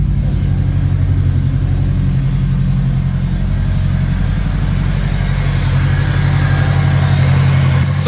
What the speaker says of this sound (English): it's idling at a reasonable RPM now, which is good.